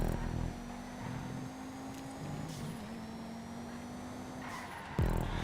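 Race car engine in a Gran Turismo 5 race, a GT4 car being chased through corners, with a sustained engine drone that shifts pitch through the turns, tire squeal, and a sharp burst near the end.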